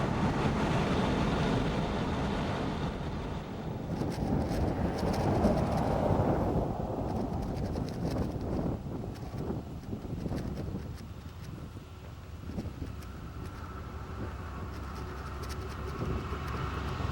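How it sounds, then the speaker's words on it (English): A BNSF freight train hauled by three Burlington Northern Santa Fe locomotives rolls through Cajon Pass, California, a broad steady rumble with wind buffeting the microphone, gradually fading to a softer roar. "Three Burlington Northern Santa Fe engines are hauling domestic and"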